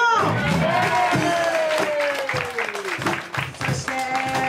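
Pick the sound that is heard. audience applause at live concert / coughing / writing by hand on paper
audience applause at live concert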